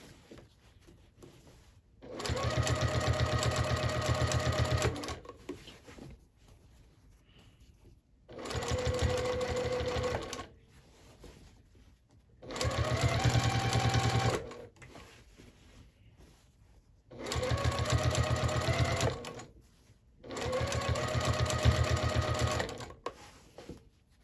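A sewing machine stitches the thick side seam of a quilted tote bag, where two pieces of batting butt together, in five steady bursts of several seconds each, separated by short pauses.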